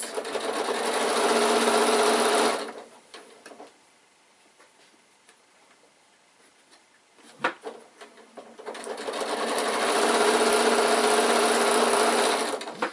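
Sewing machine running steadily while stitching fabric for an insulated picnic bag, close and loud for a couple of seconds, stopping for a pivot with a brief clack, then running again for several seconds.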